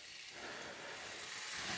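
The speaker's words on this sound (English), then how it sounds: "Listen to that sizzle." Bluegill fillets sizzle in hot butter and oil in a skillet, a faint, even hiss that carries on without a break.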